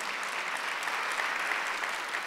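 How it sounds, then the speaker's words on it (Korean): Church congregation applauding during a Sunday worship service, steady dense clapping from a large crowd throughout, fairly loud and even with no talk over it. "여러분도 고마우면 한번 박수 한번 쳐보세요"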